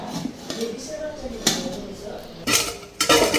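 Kitchen dishes and utensils handled for washing, with clattering pots and clinking cutlery in a few sharp bursts, a voice talking faintly alongside.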